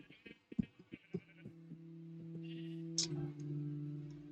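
Sheep bleat in a blocky video game farm, with long wavering bleats sounding over one another at moderate volume after a few short clicking taps at the start.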